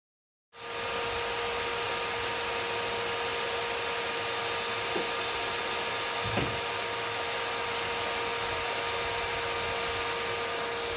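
A steady, high-pitched electric drill whine runs continuously at an even level while mixing sugar syrup for bee feed, with a couple of faint knocks partway through, and no one talking.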